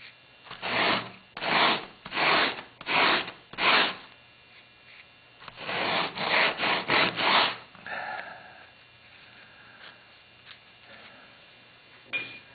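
Several rhythmic strokes of sandpaper rasping across the edge of 1/64-inch plywood, close and fairly loud, followed by lighter intermittent scraping and a faint tonal hum.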